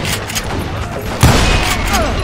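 A loud gunshot booms partway through a busy Old West shootout in the video game Call of Juarez Gunslinger, set in Stinking Springs, and a dense roar of battle noise follows it.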